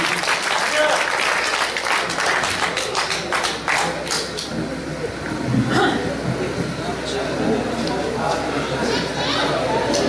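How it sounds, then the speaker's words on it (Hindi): A mushaira audience bursts into sustained applause to welcome a poet, dense clapping filling the hall for about ten seconds with chatter and voices mixed in. "जोरदार ताली से इस्तकबाल करें"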